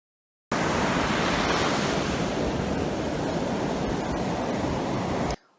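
Broad, steady rush of water washing against a shore, loud and continuous with no voices, starting abruptly and cutting off at the end.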